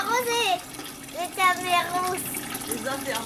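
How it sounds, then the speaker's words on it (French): A child waters a garden near a small slide and mini pool, a soft steady spray of water running beneath a child's chatter. "La Jeanne, elle est en train de faire son petit arrosage."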